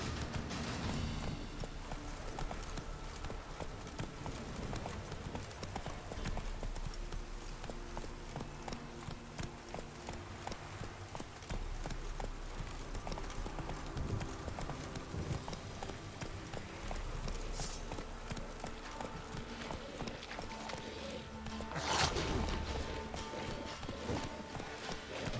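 Roach, Geralt's horse in The Witcher 3, gallops in a fast, steady clip-clop rhythm of hooves that runs nonstop, with a faint whinny or game sound rising briefly toward the end.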